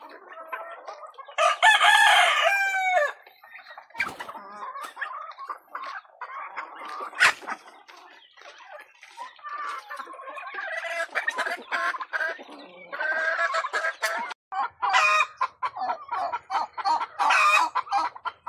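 Backyard chickens clucking and cackling with a brooding hen among them, a loud rooster crow near the start, then bursts of close, busy clucking and squawks.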